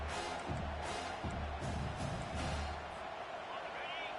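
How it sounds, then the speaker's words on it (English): Crowd noise fills a college football stadium during a Florida versus South Carolina game as the defense lines up for third down: a dense, continuous roar with surging cheers and rhythmic thumps, running loud throughout. "Decibels rising as the crowd gets behind this defense on third down."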